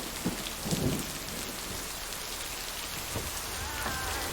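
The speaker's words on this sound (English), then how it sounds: "this is the first time it's gotten like properly stormy" Steady heavy rain with low rolling thunder during a storm in the video game Lake, a continuous wash of downpour with a few deeper rumbles near the start and middle, no voices.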